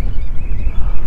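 Goose-like honking calls from birds over a shallow, dry marsh sound close and loud, a rough continuous squawking with no voices.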